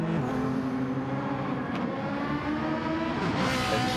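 A race car engine being overdriven holds a loud, continuous high-revving whine with a wavering pitch as the car squirms, filling the whole stretch with no voices.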